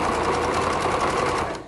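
A sewing machine runs a simple zigzag stitch at 5 width and 2 length while hemming flared bell-bottom trousers. Its needle chatters in a fast, even rhythm that stays close and steady, then eases off at the end.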